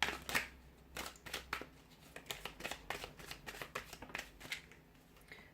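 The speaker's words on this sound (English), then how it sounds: "we'll give the cards a shuffle and see what's coming up" Riffle after riffle of tarot cards being shuffled, crisp papery bursts repeating in quick succession, close up and alone.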